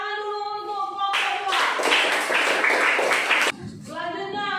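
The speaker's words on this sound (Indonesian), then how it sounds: "Tepuk tangan dulu untuk kelompok" Students in a classroom clap together for a presenting group, a burst of dense close clapping that starts abruptly and stops after about two seconds, framed by a sustained voice before and after.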